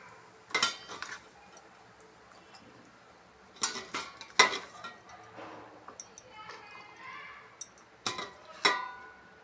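A spoon stirs tempered rice in a pan, giving scattered metallic scrapes and clinks in irregular bursts, fairly close and moderately quiet.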